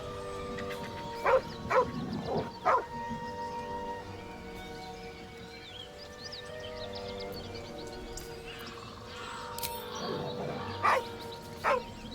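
A dog in the video game Baldur's Gate 3 gives a few scattered barks and growly yelps over a quiet game ambience, fairly faint, with short bursts separated by pauses.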